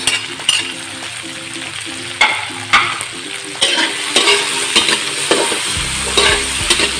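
Vegetables and green peas stir-fried in a hot pan for fried rice, a continuous close sizzle broken by repeated scraping strokes and occasional clinks of the spatula.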